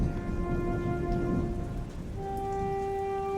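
Thunderstorm rain falling steadily as a continuous hiss with a low rumble beneath, set against a sustained musical tone that shifts pitch midway.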